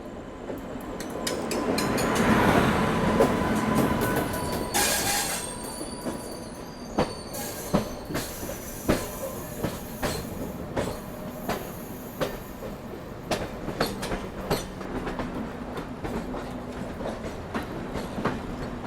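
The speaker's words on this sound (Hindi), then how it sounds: "इसी के साथ एक और राजधानी से क्रॉसिंग।" A Rajdhani express passes during a crossing at Ratlam Junction, its wagons rumbling by close at first, then a long run of sharp rhythmic wheel clacks and squeals as the cars roll past, with no talk.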